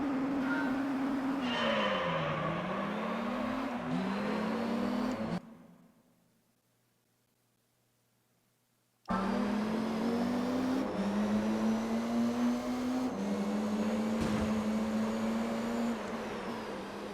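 Race car engines roar through laps of Laguna Seca in Gran Turismo 3, droning steadily with pitch rising and dipping through gear changes, cut by a few seconds of near silence before the loud engine note resumes.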